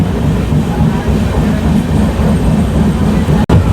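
Howrah–Ranchi Kriya Yoga Express rolling through Santragachi Junction, a steady loud rumble of rail and wheels heard from on board, continuous throughout with a sharp brief dropout near the end.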